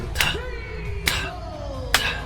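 Arena crowd at a wrestling event clapping in slow, evenly spaced unison, three sharp claps standing out over music and crowd murmur.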